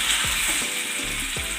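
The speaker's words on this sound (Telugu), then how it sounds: "ఇప్పుడు ఈ 2 లెగ్ పీసెస్ని మనం ఈ ఆయిల్లో డిప్ చేసేద్దాం." Two chicken leg pieces for tandoori chicken frying in hot butter and oil, a loud, continuous close sizzle with a few low thuds or pops spaced through it, no talking.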